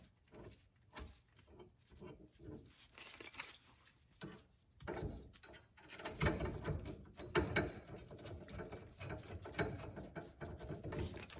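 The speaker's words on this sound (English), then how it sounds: "get the bolts started, and we'll torque them down." A ratchet tightening disc brake bracket bolts on a 1968 VW Bay Window Bus during a disc brake conversion: quiet, close clicking pawl bursts, growing busier and louder in the second half, with no voices.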